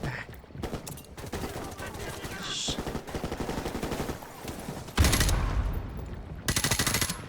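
Bursts of rapid gunfire from the video game Modern Warfare Remastered crackle over a busy mix of game sounds, with a few heavier blasts standing out.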